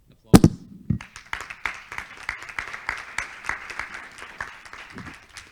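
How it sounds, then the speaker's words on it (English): Brief applause from a small audience at a community talk, opening with a few sharp near claps, then a sparse patter of scattered hand claps that stays light and thin for several seconds. "So very short applause."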